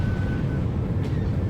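Missile lock warning in Star Wars: The Old Republic's Galactic Starfighter mode: a thin, steady electronic tone for about half a second, sitting faintly over a loud, constant low engine rumble.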